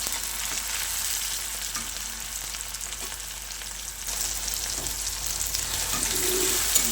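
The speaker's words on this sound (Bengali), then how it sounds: "সব কিছু একসঙ্গে একটু নাড়াচাড়া করে নেব।" A chopped green and ripe tomato mixture being stirred in a hot pan, a continuous close sizzle with soft scraping stirs, no talking.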